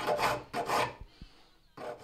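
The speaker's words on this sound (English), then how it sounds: "I'm gonna go ahead and file it off to ease that transition" Hand file rasping against a metal pipe held in a vise, two close strokes followed by a brief pause with faint ringing, then another stroke begins.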